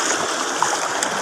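Floodwater from Typhoon Wilma flows past homes in a steady, rushing wash of water, close and continuous with no talk.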